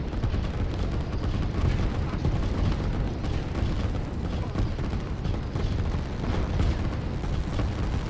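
Tanks in the Line War real-time strategy game shell buildings, producing a dense, continuous rumble of booming explosions and artillery-like blasts that overlap with no break, loud and heavy in the low end.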